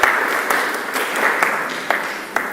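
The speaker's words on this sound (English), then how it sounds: "Let's give a clap." Audience applause at a dentistry mentorship session, a steady wash of many hands clapping at moderate volume with a few sharper individual claps standing out, continuing for a couple of seconds without speech.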